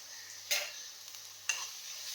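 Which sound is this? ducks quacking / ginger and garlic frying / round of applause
ginger and garlic frying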